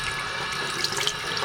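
Cold water runs from a tap over football boots while they are rinsed, giving a steady, close splashing hiss with small spattering bursts as the water hits the boot, with no talking.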